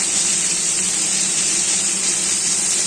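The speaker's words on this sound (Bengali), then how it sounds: "মাছ ভাজা হচ্ছে" Fish frying in a pan makes a loud, continuous hiss that stays even and unbroken for the whole moment, with no voices over it.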